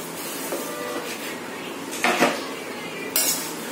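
Roasted boondi and poha being stirred in a pan for chewda namkeen, with a few scraping clinks of a utensil against metal standing out over a steady background hiss.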